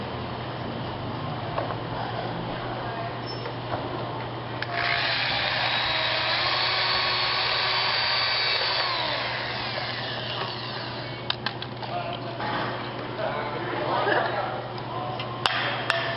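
A steady mechanical whine from a power tool runs for several seconds, with a louder stretch in the middle and some clicks and knocks near the end.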